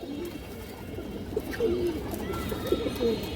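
Pigeons from a flying line of domestic birds coo softly and continuously at close range, with a few slightly louder calls toward the end.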